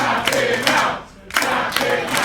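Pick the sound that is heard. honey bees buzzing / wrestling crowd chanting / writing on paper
wrestling crowd chanting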